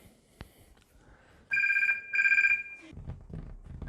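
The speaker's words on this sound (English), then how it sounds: "Now the phone stopped ringing" A telephone rings in two long electronic trill bursts, loud and close, separated by a brief gap, followed by low rumbling room noise as the ringing stops.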